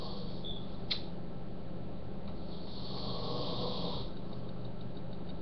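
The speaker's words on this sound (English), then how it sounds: "Damn, he snores a lot. Too loud." A man's single faint, drawn-out snore rises and falls over a low steady background hum, fairly quiet and distant.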